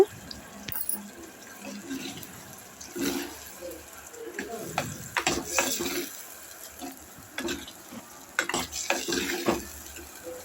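Brinjal sautéing in a pan: scraping and clattering of a spoon against metal, intermittent stirring bursts over a soft sizzle, close by.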